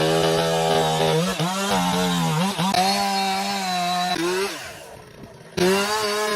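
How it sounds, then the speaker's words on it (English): A chainsaw roars while cutting through a tree in a dense forest, its engine note steady and loud, bogging and rising in pitch as the blade bites, then dropping to a brief lull before revving hard again. "The roar of the chainsaw echoes through the dense forest"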